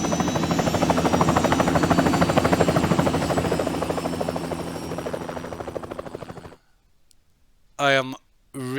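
A helicopter in the Hitman 2 video game, Miami level, beats with a loud, rapid rotor chop that gradually fades, then cuts to near silence before brief bursts of speech.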